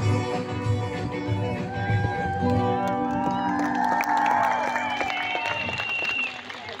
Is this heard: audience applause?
yes